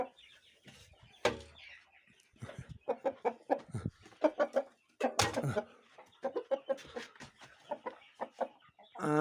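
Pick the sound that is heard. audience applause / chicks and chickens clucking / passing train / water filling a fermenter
chicks and chickens clucking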